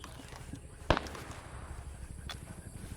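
An M1 Garand rifle fires a single sharp, loud shot in a Vietnam-era video game, one distinct crack over a low background rumble, with a faint second report trailing later.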